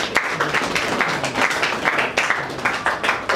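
An audience applauds an award recipient at a ceremony, with dense, sustained clapping that stays fairly loud and even for the whole stretch.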